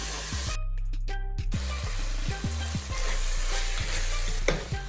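Taco filling fries in a pan with a constant sizzle while a utensil scrapes and knocks repeatedly as it is stirred, loud and close with no voices.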